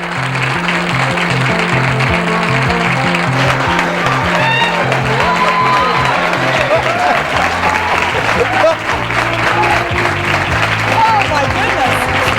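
A live morning television studio audience claps and cheers in a dense, steady roar that holds at full volume throughout, with a voice or music faintly underneath.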